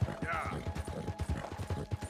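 Hooves of a Tobiano American Paint horse clop in a steady rhythm along a rough trail in Red Dead Redemption, with creaking tack, close and continuous under a game soundtrack.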